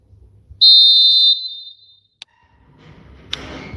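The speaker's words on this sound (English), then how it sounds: "There's the whistle, and here we go." A referee's whistle in the eFootball video game sounds one long, loud, steady blast, followed by a faint click and then rising stadium crowd noise.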